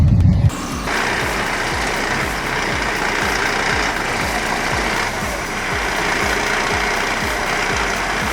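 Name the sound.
logging truck 480 engine hauling logs uphill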